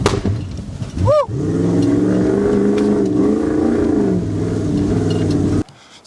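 A Jeep engine revs hard while off-roading, its tone climbing and falling in loud surges and holding a strained, close-up drone before it cuts off abruptly near the end.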